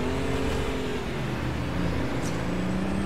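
Truck engine revving in the American Truck Simulator driving game, a steady continuous drone with a low rumbling hum and no talk over it.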